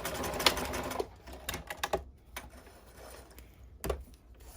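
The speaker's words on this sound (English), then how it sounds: "I'm going to backstitch at the end" A sewing machine runs in short mechanical bursts while backstitching at the end of a seam, a few clattering stitch runs followed by quieter pauses and faint clicks, close and without speech.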